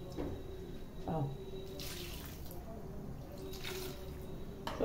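Water is poured into a tray of seasoned potatoes in a home kitchen, with splashy pouring bursts between short stretches of someone talking, close and fairly soft.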